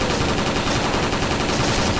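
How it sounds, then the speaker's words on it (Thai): G36C machine gun firing in a mobile shooter video game, a loud, dense, continuous burst of rapid automatic gunfire filling the whole stretch with no pauses. "ยิงขู่ไปก่อนนะ"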